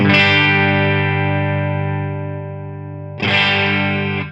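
A sustained, distorted electric guitar chord through a compressor in a Tonex setup rings out and slowly decays, then is struck again at nearly the same loudness, sounding evened out and squashed.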